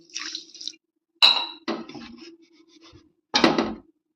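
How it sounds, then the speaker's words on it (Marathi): Water is poured from a container onto sugar in a cooking pot in a few short, splashy bursts separated by silence, close and clear with no speech. "आता याच्यामध्ये मी हे बुडेल एवढंच पाणी घालणार आहे"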